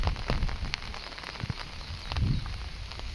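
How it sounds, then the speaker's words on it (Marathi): Heavy rain pours by a riverbank in a steady close hiss, broken by low rumbling thumps, with no talking. "आमच्या इकडे पण पाऊस चालू आहे, जोराचा पाऊस चालू आहे, भरपूर पाऊस चालू आहे।"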